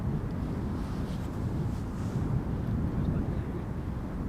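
An Air France Hop Embraer 170 airliner on approach to runway 18R at Amsterdam Schiphol, a steady broad low jet roar with wind rumble, continuous and moderately distant.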